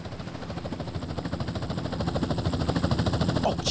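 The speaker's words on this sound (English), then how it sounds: "Chopper inbound." A helicopter in GTA San Andreas thumps steadily in a fast, pulsing rotor rhythm, growing slightly louder as it draws closer.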